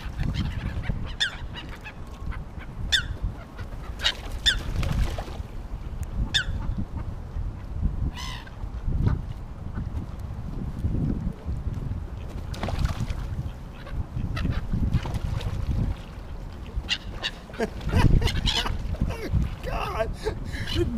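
Ducks and seagulls compete for bread thrown onto water, with frequent honking and squawking calls scattered across a noisy outdoor scene, some loud and near, while a person talks intermittently underneath.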